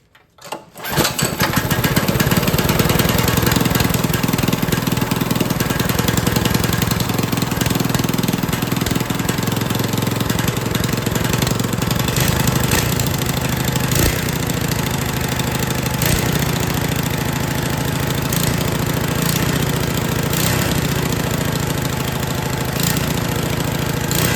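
Small mini bike engine being started with the choke on, then running steadily and loudly on its own, with no talk over it.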